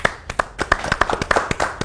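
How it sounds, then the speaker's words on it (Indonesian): A small studio audience claps for guests at a talk show, a brief run of sharp, distinct hand claps at an uneven, quick rhythm, fairly close and alone. "Tepuk tangan dulu nih"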